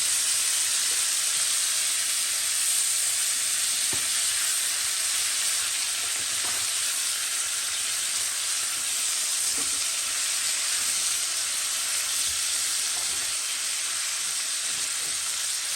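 Rice fries in butter in a pan over lowered heat, giving a steady, even sizzle that continues without pause, close and moderately loud.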